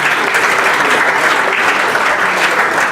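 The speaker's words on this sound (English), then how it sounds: "So round of applause." A room of people at a football club's senior awards night clap together, a full, even wash of applause that holds strong from start to finish with no talk over it.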